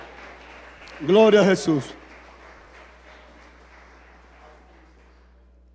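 A church congregation claps together during a worship service, a loud burst of applause lasting under a second mixed with voices, then fading into quieter murmuring and a preacher speaking.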